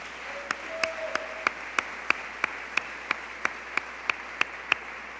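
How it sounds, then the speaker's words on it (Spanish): A church congregation claps together during a Sunday service, giving a steady, evenly spaced beat of sharp claps at moderate volume. "Démosle una ofrenda de palmas al Señor"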